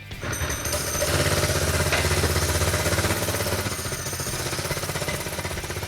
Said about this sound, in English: I want to ride a mini bike around the shop.